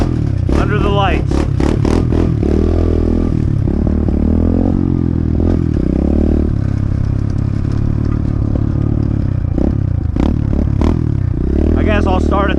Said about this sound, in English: I'm gonna go do a lap. Pit bike track,